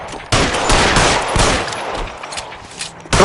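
Gunfire in L.A. Noire Remastered, a police shootout: a dense, loud burst of rapid shots crowding the whole clip, easing slightly in the middle before another sharp volley at the end.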